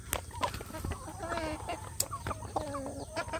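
Roosters and hens cluck and call on a free-range village chicken farm, with several birds sounding in short overlapping bursts and sharp squawks, near and lively, with no talking.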